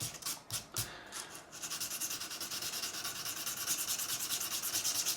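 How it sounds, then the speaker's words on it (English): Sandpaper of 400 grit rubs back and forth over the frets of a Squier Classic Vibe 50's Telecaster, a close, steady rhythmic rasping with quick regular strokes, after a few softer scuffs at the start. "I'm just going to go with the 400 grit just to remove and give me a good head start on the fret"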